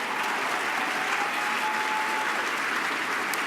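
Sustained, dense applause from a large gala audience honoring student scholars, steady and full throughout with no break in the clapping.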